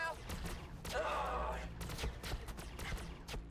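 Gunfire in Warhammer 40K Battlesector, a scattered volley of sharp shots and impacts crackling at mid distance, with a voice speaking over the battle.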